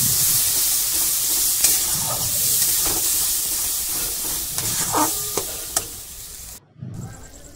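Ginger, garlic, onion and tomato masala sizzles steadily in a hot pan, with a continuous frying hiss broken by occasional stirring scrapes and a brief pause near the end.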